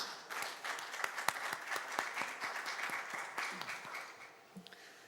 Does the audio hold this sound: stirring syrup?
no